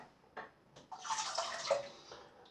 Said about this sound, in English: we'll just rinse those off for the moment